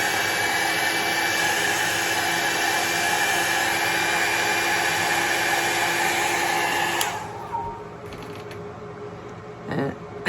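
A dryer blows loudly and steadily over alcohol ink art for about seven seconds, then cuts off, leaving quiet handling noises and a faint creak.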